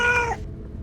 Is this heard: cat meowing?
yes